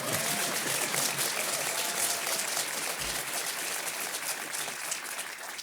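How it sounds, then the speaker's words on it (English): Steady applause from a crowd at a retro gaming expo panel, a dense wash of clapping that holds level for several seconds and eases slightly toward the end. "If I step on Paul's applause, he'll get very upset."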